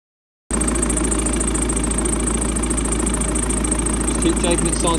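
A car engine starts and settles into a steady idle during an at-home air-conditioning regas, a continuous low rumble with a hum that holds loud and even throughout.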